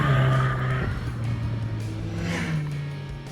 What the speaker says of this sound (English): the exhaust sounds pretty cool